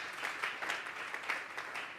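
Church congregation applauding at a Sunday service, a steady wash of many hands clapping together throughout, moderately loud and without clear individual claps standing out.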